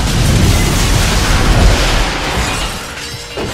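Explosions rip through a track in the racing game Split/Second, a loud roaring blast with crashing, shattering debris that rumbles heavily and then gradually thins out.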